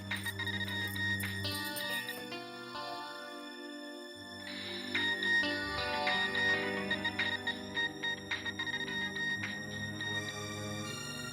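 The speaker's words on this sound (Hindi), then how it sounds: "लगता है आ गया मेरे बीजू का फोन।" A tonal electronic ringtone melody plays steadily with no talking, its repeating notes looping at a moderate volume.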